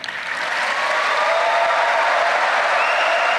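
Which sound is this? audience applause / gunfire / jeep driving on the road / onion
audience applause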